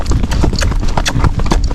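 Rapid, steady hoofbeats of a Tennessee Walking Horse moving at a smooth saddle gait, loud and close, a continuous rhythmic clip-clop with no pauses.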